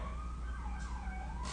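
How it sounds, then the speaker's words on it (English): Emergency vehicle siren wailing past on a Los Angeles street, a steady rising-and-falling tone heard alone against low traffic rumble. "Siren going by."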